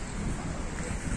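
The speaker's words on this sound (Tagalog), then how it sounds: "papakinggan mo lang yung hampas ng alon" Waves wash against a beach at Akti Miaouli, a brief, steady broadband surge of surf mixed with wind buffeting the microphone, heard alone without voices.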